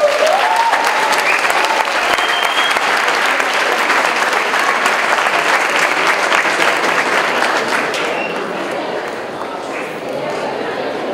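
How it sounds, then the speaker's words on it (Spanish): A large audience at a university event bursts into loud, sustained applause, full and close, easing only slightly toward the end, with a few faint voices and whistles mixed in. "Aplausos, por favor."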